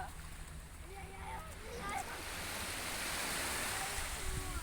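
Sea waves wash steadily onto a shore in Greece, a continuous rushing surf that swells slightly louder midway, with faint voices in the background early on.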